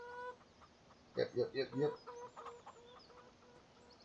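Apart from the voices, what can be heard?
chickens clucking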